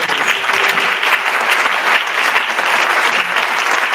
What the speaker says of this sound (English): Can we give a round of applause to the candidates?